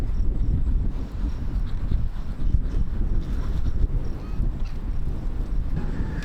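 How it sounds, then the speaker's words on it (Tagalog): Strong wind buffeting the microphone at an outdoor campsite: loud, continuous low rumbling gusts that swell and ease, dominating the scene with no clear speech. "Lakas ng hangin."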